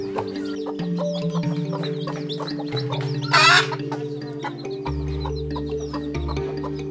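Village or broiler chickens cluck and chatter steadily over a low droning background, with one short, loud squawk rising sharply partway through.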